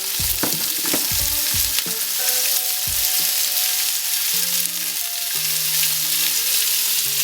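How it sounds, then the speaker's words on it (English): Paneer sizzles loudly and continuously in a hot frying pan, with a few clinks of a utensil near the start. "And we love that sizzle."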